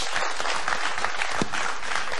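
A crowd applauding steadily on a TV show, dense continuous clapping filling the whole stretch without a break.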